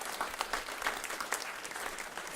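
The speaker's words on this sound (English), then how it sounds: "Let's give Fred Kirschman a round of applause" Audience at a regenerative agriculture event during Climate Week applauding Fred Kirschman, a full, even burst of many hands clapping at steady volume, with a few sharper claps standing out.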